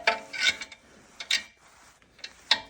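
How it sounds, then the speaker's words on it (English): Torx bolt being worked loose on a front suspension balljoint of a Range Rover L322 4.4 TDV8, giving a few short mechanical clicking and ratcheting bursts with quiet gaps between them. "I'm now trying to undo this without stripping the thread, stripping the Torx bolt."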